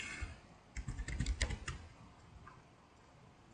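Fingers type a kit title on a computer keyboard, a quick burst of close, crisp keystrokes, then near silence.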